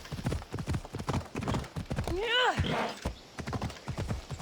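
A horse in the video game AC Odyssey gallops with rapid rhythmic hoofbeats, breaking midway into a loud descending whinny, while a person talks over the sound.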